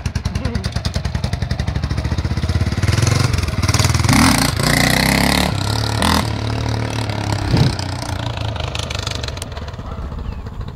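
A motorcycle engine pulses at idle, then revs hard in surging bursts during uphill wheelies before settling back to a throbbing idle, heard close.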